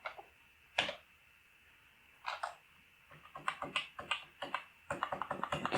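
Fingers type on a computer keyboard in sparse, soft clicks that become a quicker flurry of keystrokes, quiet and close, with no talking.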